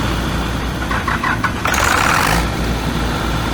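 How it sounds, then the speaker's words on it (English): A rebuilt John Deere 6068 diesel engine starts up after a complete overhaul in a workshop, with a loud, steady clattering rumble that rises into a harsher roar partway through and then settles into a running idle. "in this video we are going to start the engine after complete overhauling"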